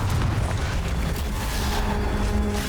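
A Confringo blasting spell erupts in Hogwarts Legacy, filling the whole stretch with a rumbling, booming explosion. The low, dense roar holds steady and loud throughout, with crackling debris on top and no talk.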